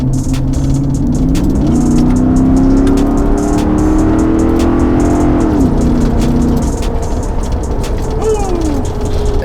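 A lifted Ford F150 pickup with a 5.0 V8 on an E85 performance tune accelerates hard, its loud engine note rising steadily then dropping as it shifts gears, followed by another climb; close, continuous and with no talk.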